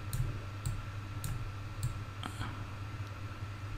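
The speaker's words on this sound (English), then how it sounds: "Select and hit delete on the keyboard" Sharp keyboard clicks from a computer keyboard while editing in Photoshop, a handful of light taps spaced irregularly over a steady low hum, with nobody speaking.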